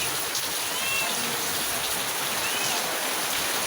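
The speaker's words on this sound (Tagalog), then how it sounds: "Hanggang ngayon malakas pa rin ang ulan sa Cavite" Heavy rain in Cavite pours in a dense, steady hiss that does not let up, with water splashing and running throughout.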